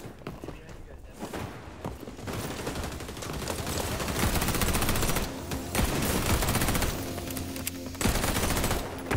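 Rapid bursts of MP7 submachine gun fire in the shooter game xDefiant, dense automatic volleys with brief gaps, loud and continuous over game ambience, with some talk mixed in.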